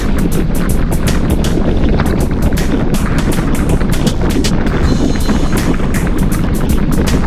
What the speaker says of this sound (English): the wind's blowing from our right and in our face